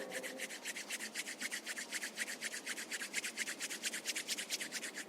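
Palms rub briskly together in a steady back-and-forth rhythm, about six strokes a second, close and fairly soft, during a yoga session with no talking.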